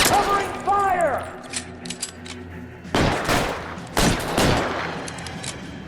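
Gunfire in the 1940s Los Angeles detective game L.A. Noire: rapid overlapping shots and bursts in two dense volleys, loud and close, with a sweeping tone early on and voices mixed into the firefight.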